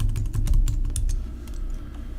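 A password being typed on a computer keyboard: a quick, close run of key clicks and taps in a steady rapid rhythm.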